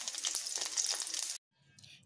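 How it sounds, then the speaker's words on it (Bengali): Slices of pointed gourd fry in hot oil with a bright, dense sizzle that cuts off abruptly, then returns as a softer crackle; close and steady with no talking. "এইভাবে আমি এপিঠ ওপিঠ দুই পিঠই ভালো করে ভেজে নিচ্ছি।"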